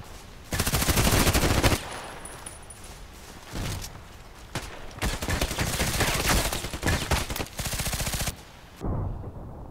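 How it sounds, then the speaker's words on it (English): Rapid bursts of H&K MP5K submachine gun fire in the shooter game Contract Wars, several loud close volleys of automatic shots separated by short pauses. "See how many shots I needed to bring him down."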